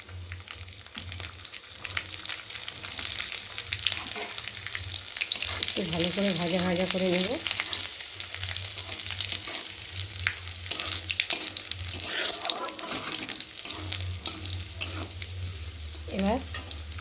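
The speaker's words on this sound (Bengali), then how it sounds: "প্রথমে দিলাম কালো জিরে, তারপর দিলাম শুকনো লঙ্কা, তারপর দিলাম রসুন," Black cumin, dried chilli and garlic fry in hot oil, a continuous close sizzle and crackle with stirring, while someone speaks briefly over it.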